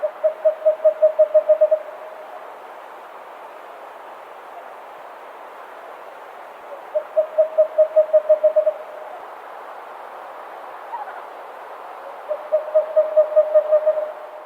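A small grayish-brown owl gives soft, delicate tooting calls in three bursts of about eight evenly spaced notes each, separated by quiet pauses over a faint steady background hiss.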